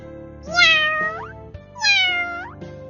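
A cat gives two clear, loud, drawn-out meows close by, each rising then falling, separated by a short pause, with nothing else heard.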